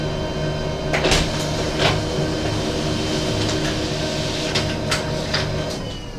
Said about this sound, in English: So here is my laser printer.